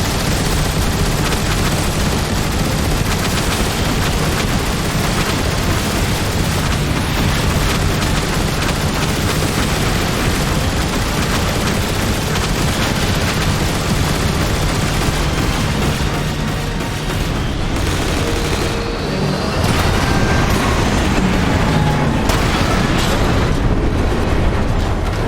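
Dense, continuous gunfire and booming explosions from the Transformers: War for Cybertron video game, a loud unbroken barrage of blasts and bursts that thins briefly and then surges again, with no talking.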